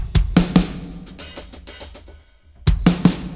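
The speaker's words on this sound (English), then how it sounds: "I actually like adding that plate reverb for drums." A drum kit plays a short beat of kick and snare hits, each trailed by a bright plate-reverb wash, then pauses briefly before the pattern repeats.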